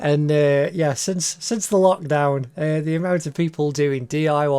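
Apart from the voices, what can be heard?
No everyday noises stand out.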